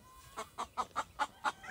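A chicken clucks in a quick series of about seven short, evenly spaced clucks, fairly close and clear with no talking.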